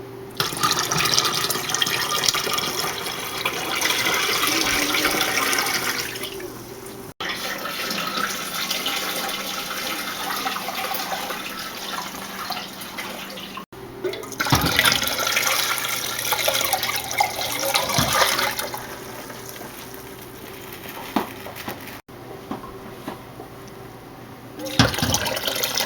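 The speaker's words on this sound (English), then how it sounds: "let me get some hot water to pour over these jars" A kitchen tap runs hot water steadily for pouring over pickle jars, a loud continuous gush with brief breaks where the flow is adjusted, close by with no talking.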